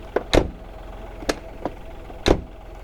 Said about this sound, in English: The doors all make a weird sound too.